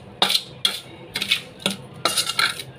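Egyptian dukkah spice mix ingredients stirred together with a spoon in a bowl, five or six sharp scraping, clinking strokes at an uneven rhythm, close and fairly loud with no talk.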